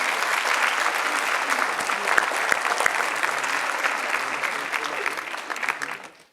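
An audience at a municipal New Year greetings ceremony gives sustained, even applause, a dense hall-filling patter that holds steady before tapering off abruptly at the end.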